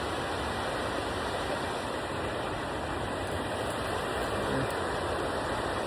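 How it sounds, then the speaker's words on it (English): Steady broadband rush of a creek flowing down an embankment behind a hunter in June woods, constant and fairly loud throughout with no speech. "there's the creek is just behind me down this embankment"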